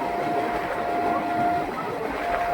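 A Tinpahar–Rajmahal passenger train in India rolls along steadily, a continuous broad rumble and rattle of carriages heard from on board, with a faint steady tone running through it.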